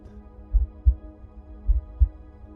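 Slow heartbeat sound effect with deep, soft lub-dub thumps in two pairs over a low hum, steady and isolated with no voices.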